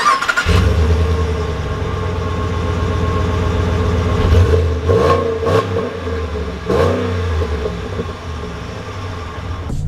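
A 2020 Ram 1500 Limited pickup truck engine runs and revs as it pulls away, a loud close rumble with several distinct surges of acceleration and gear changes.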